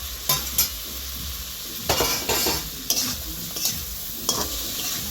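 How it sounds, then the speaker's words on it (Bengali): Potatoes tossed into sizzling ginger spice paste for a fish cumin curry, with a spatula scraping and stirring the pan in repeated bursts over a steady fry. "মশলাটা ভাজা হয়ে আসছে। এখন আলুগুলো ছেড়ে দেবো।"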